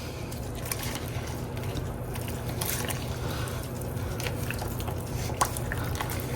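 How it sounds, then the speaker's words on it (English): Magic Pour plaster mix being stirred and scraped along the bottom of its container, a continuous soft wet squishing and gooey scraping with occasional small clicks, close and steady, no talking. "just mix it really well. Scrape all the way to the bottom."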